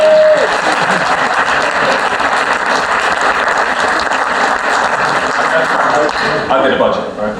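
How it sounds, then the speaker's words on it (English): Guests at a wedding reception break into a round of applause, a steady mass of clapping that fills the room, with a voice briefly audible amid it. "So, a little round of applause."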